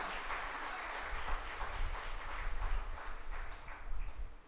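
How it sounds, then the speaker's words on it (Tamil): Congregation at a Tamil Catholic church service breaks into sustained applause, a dense wash of many hands clapping at moderate distance for several seconds with no speech over it. "கைத்தட்டி ஆண்டவருக்கு நன்றி சொல்வோம்"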